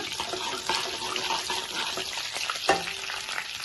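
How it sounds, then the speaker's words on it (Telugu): Curry leaves, onions and green chillies fry in a pan with a continuous close sizzle, broken by light scraping and stirring strokes, with no talking. "కరివేపాకు రెబ్బలాగా, ఆనియన్స్, పచ్చిమిర్చి కొంచెం ఫ్రై చేసుకున్నాం"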